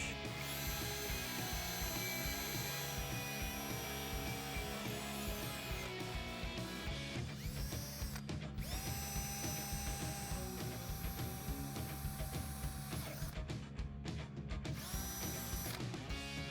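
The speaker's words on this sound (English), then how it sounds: "I'm going to drill a pilot hole with a 3/16 inch drill bit" A power drill with a 3/16 inch bit whines continuously while boring a pilot hole through thick metal, its pitch shifting as it bites and eases, loud and close.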